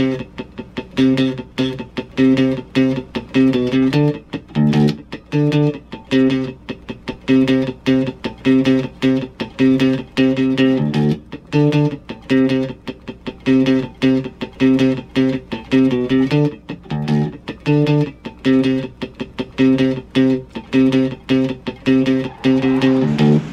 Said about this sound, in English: When we pick up the speed, it's going to sound like this.